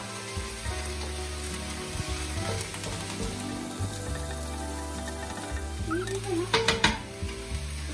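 Filet mignon and mushrooms fry in a hot pan with a steady, close sizzle, broken near the end by a short clatter of stirring or utensils against the pan.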